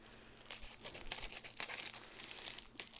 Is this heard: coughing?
no